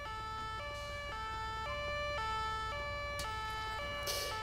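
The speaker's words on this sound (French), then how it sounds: "Qu'est-ce qu'elle fout l'ambulance là?" Ambulance siren in the video game GTA IV, a clear two-tone wail alternating steadily between pitches with a faint engine rumble beneath and no voices.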